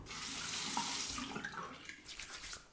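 Tap water runs steadily into a bathroom sink as a face is warmed before shaving, a soft, even splashing hiss that shifts slightly near the end, with no voices.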